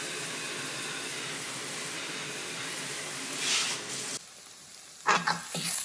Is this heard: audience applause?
no